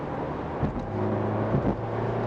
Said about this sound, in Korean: 엔진음이 아니죠, 배기음이죠.